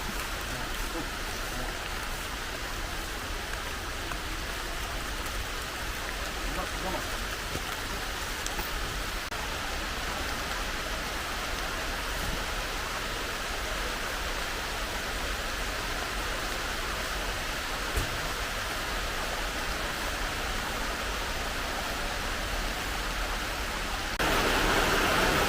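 Steady rain falls without a break, a dense even hiss of drops that holds constant and grows slightly louder at the very end.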